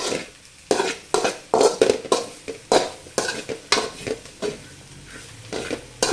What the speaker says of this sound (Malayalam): കുരുമുളക് പൊടി നന്നായി നന്നായിട്ടൊന്ന് മിക്സ് ചെയ്യാം